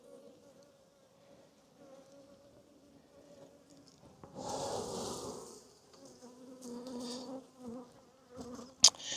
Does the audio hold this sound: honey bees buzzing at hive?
yes